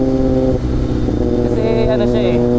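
A Kawasaki ZX25R inline-four motorcycle engine revs close and loud, a high screaming tone that rises in pitch through a couple of quick blips before settling into a steady wail.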